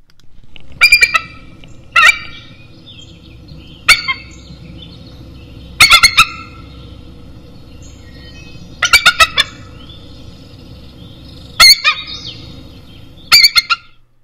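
A bald eagle calls in a recording: loud, close bursts of high, shrill chittering notes repeat every second or two over faint background hiss, with no talking.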